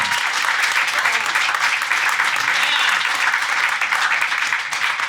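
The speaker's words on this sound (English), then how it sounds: "Give it a round of applause." Dense, sustained applause from a large audience at a Bitcoin Cash conference talk, a steady loud wash of many hands clapping throughout without a break.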